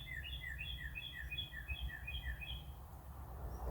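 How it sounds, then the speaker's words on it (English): Small bird chirping outside a backyard shed, a quick run of repeated bright tweets in short rising-falling phrases for a few seconds, fairly clear over a low, steady outdoor rumble. "I swear, that bird, man."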